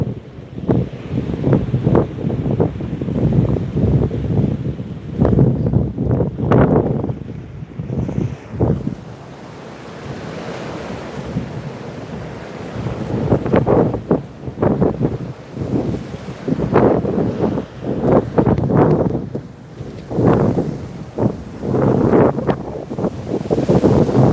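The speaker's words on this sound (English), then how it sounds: "Just the sound of the waves and the wind" Ocean surf rolls in on a windy shore, with loud, recurring wave surges and gusty wind buffeting the microphone, a brief quieter lull midway, and no voices.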